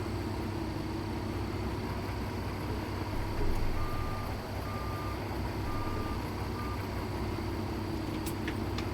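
A truck in American Truck Simulator emits a reversing alarm, a few evenly spaced beeps over a steady low engine rumble while hauling an oversize load.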